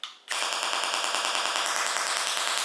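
Electric arcs from an exposed wire trailing on the ground beside a large LEGO tank, a dense crackling burst of rapid pops and snaps that starts after a brief quiet moment and runs loud and continuous.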